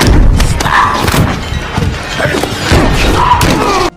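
A gunshot rings out outside a farmhouse during a robbery, heard as a loud, heavy burst with thuds and crashing noise over roughly four seconds, with no speech over it.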